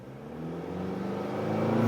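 A car engine goes from idle to a throttle blip, its harmonic drone climbing steadily in pitch and loudness over about two seconds, close and alone.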